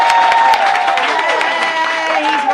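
Studio audience applause and cheering for Jared Padalecki on a comedy talk show, dense and continuous clapping with whoops, while a voice talks excitedly over it.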